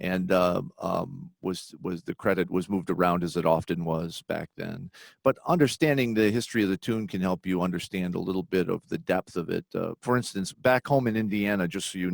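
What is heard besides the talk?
None of the usual background noises is heard.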